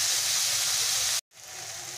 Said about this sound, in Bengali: পেঁয়াজটা দিয়ে আমি এটাকে ভালো করে ভেজে নেব